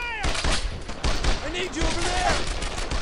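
Squad gunfire in the World War II shooter Brothers in Arms: Earned in Blood, a steady run of rifle and machine-gun bursts, loud and continuous, with a voice talking over the shooting.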